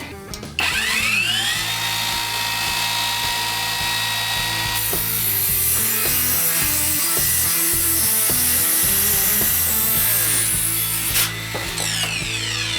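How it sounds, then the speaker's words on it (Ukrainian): A loud GRAND cordless circular saw spins up and cuts steadily through wood for about ten seconds, its high whine holding under the grinding cut, close by. "хочу провірити, чи точно пилка буде різати по мітці"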